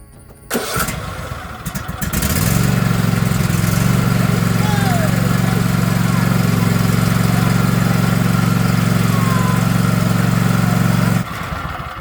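A Cub Cadet XT2 riding lawn tractor engine fires up and settles into a loud, steady running drone that holds for about nine seconds before cutting off, with a brief rattle as it starts.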